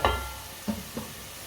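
Garlic fries in a pan, a short burst of sizzle followed by two soft scraping stirs, close and alone.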